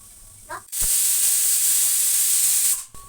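A pressure cooker vents steam in a loud, sustained hiss lasting a couple of seconds before cutting off abruptly.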